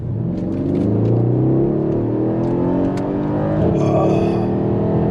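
A Mercedes-AMG E63 with a 5.5-litre biturbo V8 revs loudly and close by, a deep rumbling roar that rises and falls steadily for several seconds with no voices.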